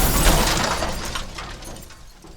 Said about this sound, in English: A car had smashed into him as he crossed an intersection.